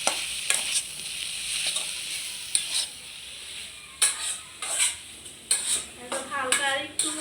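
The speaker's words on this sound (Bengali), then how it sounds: "হালকা একটু নাড়াচাড়া দিয়ে নামায় ফেলবো শাকটা।" Leafy greens stir-fried in a pan, a steady sizzle broken by repeated scraping stirs and light clinks of the spatula against the metal, close and fairly loud throughout.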